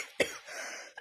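Two coughs from a person with an ongoing illness, a loud, sharp burst followed by a fainter second cough near the end, with quiet room sound in between.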